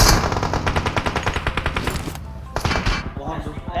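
Rapid automatic gunfire from PUBG Mobile during a competitive match: dense, evenly spaced bursts for about two seconds, a brief pause, then more loud shots close up.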